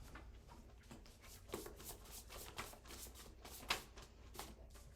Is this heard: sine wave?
no